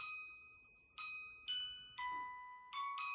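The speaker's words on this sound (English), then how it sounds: "Glockenspiel." A glockenspiel rings out the Jingle Bells melody layered over a Christmas song chorus, about six bright metallic struck notes with sustained, shimmering decays, played softly and heard alone.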